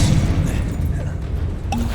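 Confringo spell explosion in Hogwarts Legacy on Xbox Series X: a deep, rumbling boom at the start that decays into a low roar, followed by a faint whoosh near the end, with no talk.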